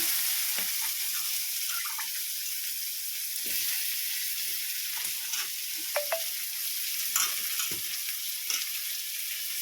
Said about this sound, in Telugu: చాలా మంచి ఆయిల్ అండి ఇది రైస్ బెండాయిలు ఇదండి ఆకంతా వేస్తున్నాను